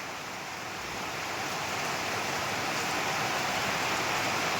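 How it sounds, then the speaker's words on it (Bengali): Heavy rain falls at night in a steady, even hiss that holds at a constant level throughout, with no voices. "আমি এসেছি কেমন বৃষ্টি হচ্ছে দেখতে"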